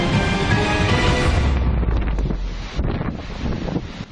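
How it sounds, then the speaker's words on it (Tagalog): Strong wind roars over the microphone while large waves surge and crash against houses in a coastal village in Catanduanes during a super typhoon, a loud, continuous, turbulent rush with no pauses. "Halos lamunin ng malaking alon ang mga bahay sa Barangay Sikmil sa Gigmoto, Catanduanes."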